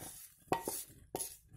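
A spoon clinks twice against a pan, stirring ghee-fried raisins into a mixture for winter laddoos; the sound is quiet and close, with faint background hiss and no talk.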